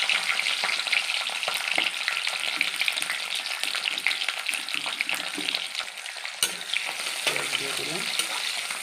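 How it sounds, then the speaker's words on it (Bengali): Onions hiss and crackle in hot oil that was just used to fry paneer for chilli paneer, a dense continuous sizzle with light stirring knocks close up. "এবার ওই তেলে আমি পেঁয়াজগুলো দিয়ে দেবো"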